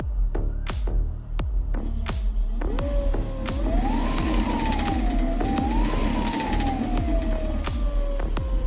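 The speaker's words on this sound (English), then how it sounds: "let's turn the bike on and let me show you how it runs" An electric scooter fitted with a conversion kit runs close by, its motor whine rising and falling in pitch over steady broadband hum, punctuated by regular sharp ticks.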